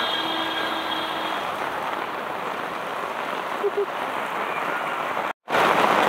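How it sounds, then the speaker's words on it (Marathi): Heavy monsoon rain pours down in a village, a dense constant roar of drops on surfaces that runs unbroken apart from a momentary cut near the end. "पाऊस जाम करतं, मुसळधार आहे."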